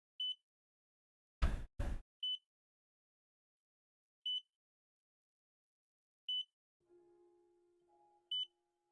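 Short electronic beeps from an alarm in the horror video game God's Basement repeat at a steady two-second interval, clear and fairly loud, interrupted by a brief loud burst and a low droning tone near the end.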